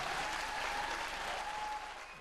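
A theater audience at a comedy sketch claps in a steady, moderately loud patter that eases slightly toward the end, with a faint sustained tone running underneath.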